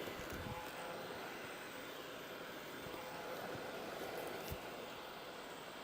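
A wood lathe spun up to its top speed of 3,900 RPM gives a steady, loud whirring roar with an even airy hiss, running continuously and unbroken by talk.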